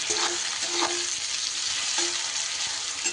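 Onions sizzle and crackle in hot oil, a steady frying hiss with occasional stirring clinks from the pan.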